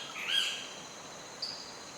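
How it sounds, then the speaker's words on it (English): Shorebirds and seabirds give faint, distant calls at a river mouth in Costa Rica, one drawn-out note followed later by a brief sharp cry over a steady hiss of surf and wind. "Shorebirds and wading birds feed at the river's mouth."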